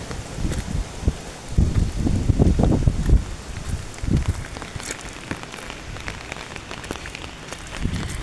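Rain patters steadily on surfaces nearby in Bhambarde village, with heavier drips and low thumps mixed in, and a light wind rustle. Nobody speaks.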